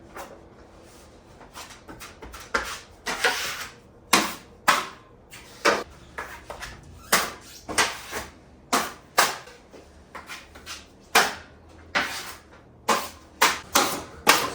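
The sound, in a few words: cutting out a broken drywall corner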